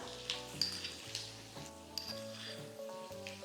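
Minced garlic and mustard seeds sizzle in hot sunflower oil while a date chutney is being made, a soft, steady crackle under gentle background music.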